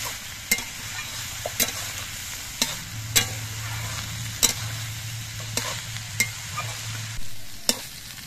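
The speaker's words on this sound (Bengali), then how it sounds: "এবার বেশ কিছুক্ষণ কপির ডাঁটাগুলো রান্না করে নিতে হবে।" Cauliflower stalks stir-fried with turmeric and slit green chillies, a steady low sizzle under regular sharp scrapes of a spatula against the pan, about one every second, close by with no talking.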